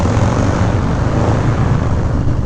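A Harley-Davidson SE 131ci Heritage Classic Softail motorcycle engine drones loud and close under heavy throttle, a dense, continuous rumble that holds steady without breaks.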